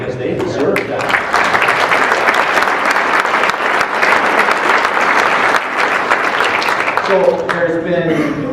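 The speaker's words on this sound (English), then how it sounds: "I think we should give a round of applause to our healthcare workers because they deserve that." Loud, sustained audience applause at a Manitoba Chambers of Commerce Q&A, honouring healthcare workers, a dense wash of clapping for about seven seconds before fading as a voice resumes talking near the end.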